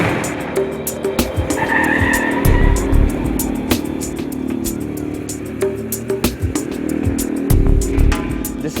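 Evasive driving manoeuvres on a training track for National Security Guard drivers, with engine revving and repeated tyre squeals and skids throughout, loud and close, with no talk.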